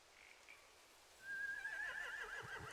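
A horse whinnies loudly in the video game The Walking Dead: The Final Season, with a long, shaky high-pitched neigh after a quiet start with a couple of faint calls.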